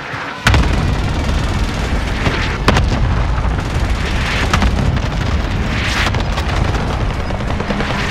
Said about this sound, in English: Airstrike here, please. Got your request. Cluster strike is active.